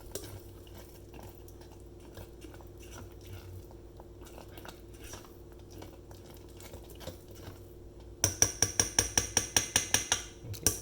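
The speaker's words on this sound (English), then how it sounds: "I'll give it a stir every 5 minutes just to make sure like the fluid is going to the bottom." Glutinous rice with palm sugar is stirred in a Tefal RK500 electric cooker pot, first with soft, irregular scraping and clinks, then a run of sharp, rhythmic metallic knocks of the utensil against the pot near the end.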